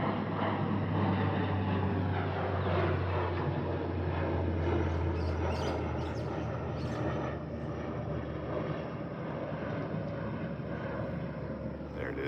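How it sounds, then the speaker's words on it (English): An airplane drones overhead in a steady, broad engine roar that holds strong, then eases slightly as it passes, continuous and fairly loud for the whole stretch. "Here comes an airplane."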